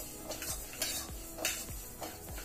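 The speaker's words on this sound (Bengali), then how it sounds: "যেতিয়ালৈ মুগ দালিখিনি ব্ৰাউন নহয় তেতিয়ালৈ মই মুগ দালিখিনি ভাজি লওঁ।" Moong dal frying in a wok under repeated stirring, a quiet sizzle with rhythmic scraping strokes and light metallic clinks, close and alone.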